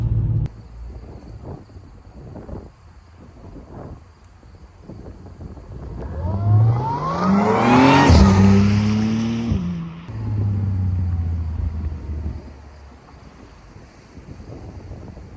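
An Audi S4 fitted with a new intake revs up hard, its engine note climbing to a loud, close peak and then falling back and settling, with wind buffeting the microphone.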